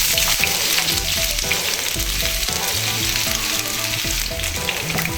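Onions frying in hot oil in a pot for a giant African snail stew, a steady close sizzle with occasional stirring knocks and clatter running throughout.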